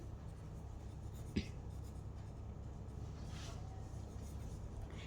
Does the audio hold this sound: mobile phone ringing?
no